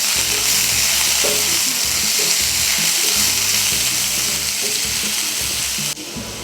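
A large chopped onion fries in about one and a half tablespoons of hot oil in a pan, giving a loud, continuous dense sizzle with faint stirring underneath that drops away abruptly near the end.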